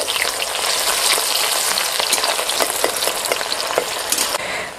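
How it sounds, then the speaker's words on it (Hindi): Chopped onion and bay leaf hit hot oil in a pan for a village-style chicken curry, producing a loud, close, crackling sizzle with stirring scrapes and spatters throughout. No one speaks. "तो ये हमारा कटा हुआ जो प्याज था वो प्याज अभी डाल रहे हैं"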